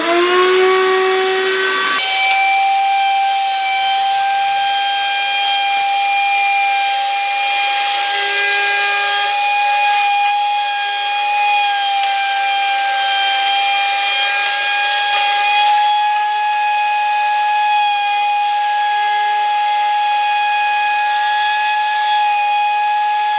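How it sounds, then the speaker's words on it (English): A router fitted with a 1/4 inch bearing-guided round over bit edges wood, giving a loud, steady, high-pitched whine that starts after a brief moment and runs on continuously without talk. "all I'm going to use to put the little the round over on the edge is a 1/4 inch round over bit with the bearing on top"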